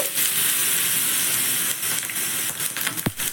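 Black mustard seeds and a dried chilli broken in two sizzle in a dry pan with no oil, a steady loud hiss throughout with a brief scrape near the end.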